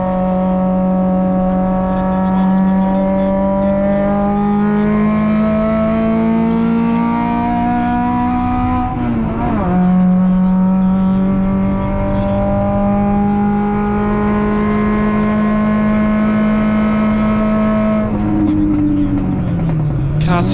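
A grey MG and a Triumph GT6 race on track, their engines pulling hard in a loud, sustained roar with a couple of gear changes along the way.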